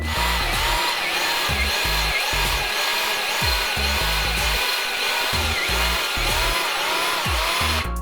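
A power drill runs continuously while boring holes for a homemade 20-tonne hydraulic press, a loud close whine with rhythmic low-end bumps as the bit bites and the motor strains.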